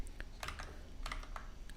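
JSON code is typed on a computer keyboard as a run of close, crisp key clicks at an uneven rhythm, quiet in the room and without speech.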